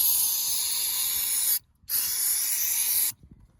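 MAF sensor cleaner sprays from a can onto a high-flow K&N cotton air filter from a Ford Ranger 3.0 V6, in two long, close, sharp hissing bursts separated by a short silent pause.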